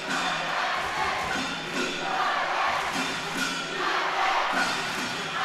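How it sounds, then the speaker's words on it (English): Crowd at the men's final of the 2023 World Tchoukball Championships, Taipei versus Italy, shouting and chanting for Italy in a loud, continuous roar with rising and falling swells. "The crowd is going wild right now, just shouting for Italy."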